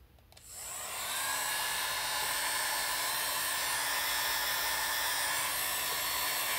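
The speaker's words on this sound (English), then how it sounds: "And I'll go back to this Conair tool." A Conair hair dryer blows steadily on alcohol inks, starting after a brief moment and holding a loud, continuous whoosh close by with no talk.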